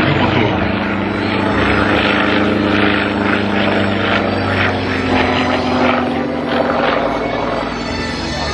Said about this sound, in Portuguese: vamos ouvir o motor